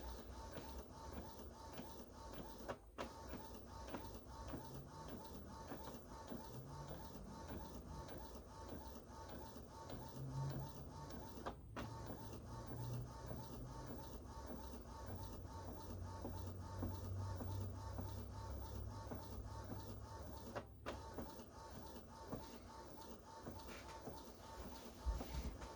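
An inkjet printer slowly prints stickers at full quality, giving a quiet, steady mechanical hum and whir with brief shuffling carriage movements and a few soft clicks, continuing for about 26 seconds with no talk.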